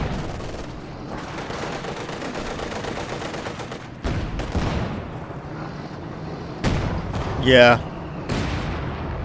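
Gunfire and artillery blasts from a World War II tank battle game with a T-34 and Panzer, bursts and booms rising over a steady rumble, with a sharp loud shot near the end under continuous commentary.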